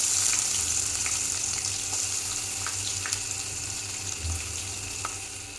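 Onions fry in hot oil with mustard seeds, curry leaves and green chillies, giving a continuous bright sizzle with scattered small pops and crackles and no talking.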